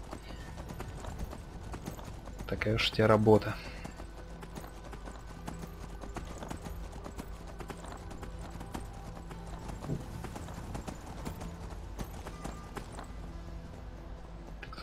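A horse gallops with fast, dense clip-clop hoofbeats in Skyrim, steady throughout, with a brief louder whinny-like burst near the start and a short line of spoken dialogue.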